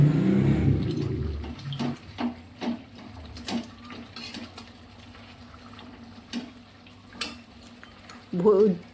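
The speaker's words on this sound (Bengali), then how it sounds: "ঝোলটা ফুটে গেছে এবার আমি ভাজা কই মাছগুলো দিয়ে দিলাম" Fried koi fish is dropped into boiling curry gravy with young eggplant and tomato, starting with a loud sizzling splash, then soft bubbling and scattered light clinks of the pan.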